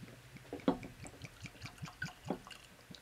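Balcones single malt whisky is poured into a glass, a close, quiet trickle with small glugs and drips spread across a few seconds, without speech.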